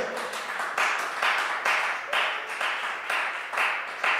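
A church congregation applauds in rhythmic waves, the clapping coming in repeated pulsing bursts, full and close, with no speech over it.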